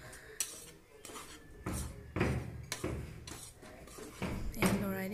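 A spoon stirs about 150 grams of sugar in a pan, giving repeated metallic scrapes and clatters against the pan in an uneven rhythm, close and moderately loud.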